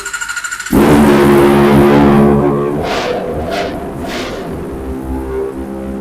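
A Kawasaki ZX-4R four-cylinder sport motorcycle engine revs sharply and loudly up to a high whine, then eases back to a rough, burbling idle, close by.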